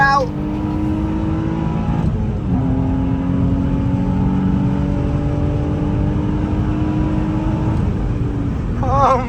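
A project car accelerates hard with its wheels breaking loose, a loud sustained engine roar rising steadily through one long pull, with brief voices near the start and end.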